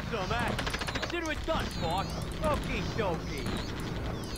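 Rapid bursts of automatic gunfire in the game Commandos crackle amid game sound effects and whooshing tones, repeating in short volleys throughout.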